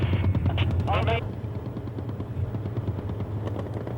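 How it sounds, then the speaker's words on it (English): Rapid, rhythmic bursts of machine gun fire from a US Marine tank in 1993 rattle in the distance beneath radio chatter and voices. "machine gun fire"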